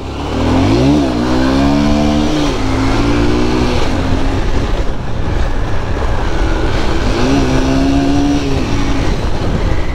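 A motorbike engine revs hard on a wide road, its pitch climbing and falling in two loud surges with a steady rumble between them, close by and with no talking.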